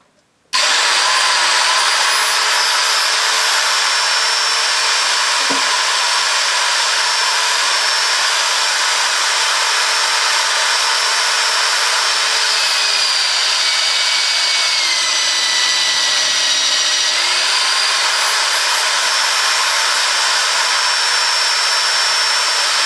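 A loud, steady high-pitched whine of an electric drill running continuously, drilling 8mm holes, with pitch shifts as it bites into metal, close by and uninterrupted.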